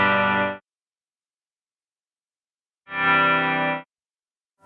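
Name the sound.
guitar effect on NUX MG-400 processor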